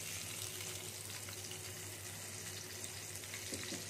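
Steady, soft sizzling of eggs frying in hot oil, a continuous crackling hiss with no voices.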